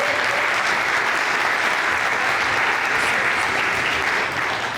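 A crowd at a political rally in the Bronx breaks into loud, sustained applause that holds steady for the whole stretch without letting up.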